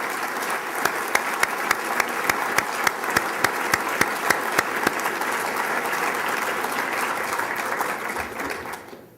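Sustained crowd applause at a Torrance, California State of the City address, steady and dense clapping from a large audience with a few sharper claps standing out early on, fading at the end.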